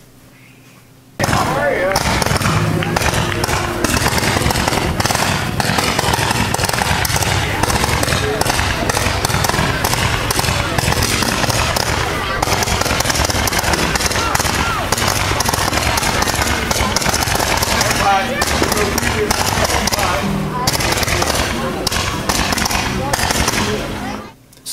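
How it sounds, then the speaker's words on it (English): Firecrackers explode in a dense, nonstop rattle of sharp cracks and pops for over twenty seconds, loud and close, with no pause once the string ignites. "Let's watch some more firecrackers."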